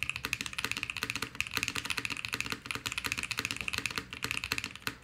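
Rapid, continuous clacking of keys on a mechanical keyboard, close and crisp, with a steady typing rhythm and no voices.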